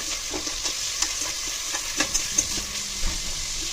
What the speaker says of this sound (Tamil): அந்த வெங்காயத்தை கட் பண்ணி வச்சோம் இல்லையா அதையும் இதோட சேர்த்துக்கலாம் சேர்த்துட்டு நல்லா வந்து கலர் சேஞ்ச் ஆகிற வரைக்கும் வதக்கி விட்டுக்கலாங்க